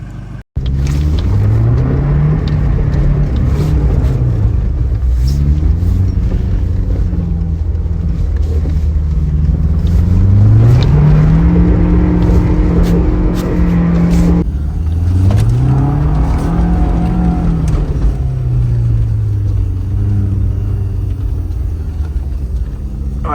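An engine runs steadily as a car is driven off in a series of gear pulls, each rev rising and falling over a constant low rumble for the whole span, loud and close.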